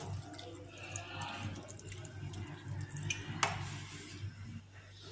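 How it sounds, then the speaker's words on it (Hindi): A cup of water is poured into a bowl of scooped wood apple pulp, a soft, steady trickle and splash heard close up with faint drips and wet squishing. "एक कप पानी डालूंगी।"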